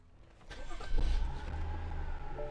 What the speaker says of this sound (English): I'm going to go drive this car and have a lot of fun.